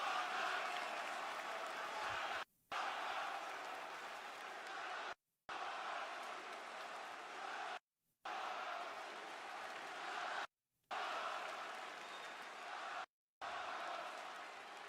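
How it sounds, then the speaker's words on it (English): A Boston arena crowd at a WWE Raw wrestling show boos a wrestler in a sustained, far-off mass roar. The sound is broken by several abrupt silent gaps. "Yeah, they keep booing the shit out of him."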